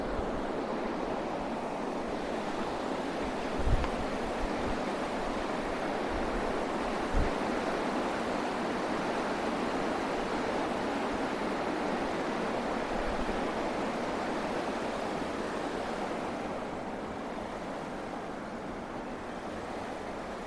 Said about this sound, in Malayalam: സ്റ്റെപ്പിന് മുകളിൽ കൂടെ വെള്ളം അങ്ങനെ ചാടി ചാടി വരുന്ന ഒരു കാഴ്ചയാണ്